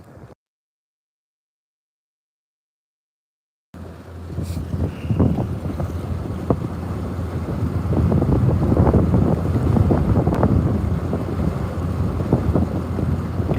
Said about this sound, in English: What I'm trying to do is just get out of the wind.